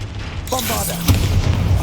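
A Bombarda blasting spell explodes in Hogwarts Legacy: a sharp boom hits about a second in, followed by a low rumble, with game sounds and a brief tone before it.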